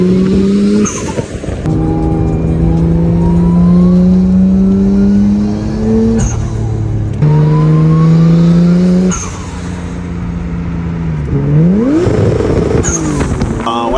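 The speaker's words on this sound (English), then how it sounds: "So it has a Tomei titanium exhaust." A loud Tomei titanium exhaust on a Nissan R34 Skyline GT-T revs hard several times, each rev climbing sharply then dropping, with a raspy, booming tone between bursts.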